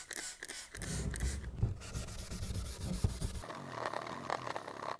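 Wet sanding of a car headlight's UV-coated lens with 400-grit sandpaper, heard as a steady close-up rubbing and scraping. A brief pause comes partway through, then the strokes continue with a slightly rougher, hissier texture.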